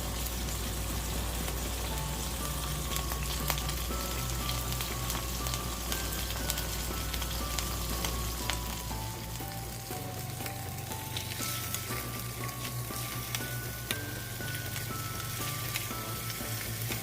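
Beef pieces frying in oil in a pan for a homemade beef batchoy, a steady dense sizzle and crackle that runs loud and unbroken throughout, with no voices.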